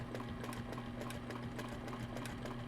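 Sewing machine stitching quilt triangles, a steady close motor hum with a rapid rhythmic needle tapping running evenly throughout, no talking over it.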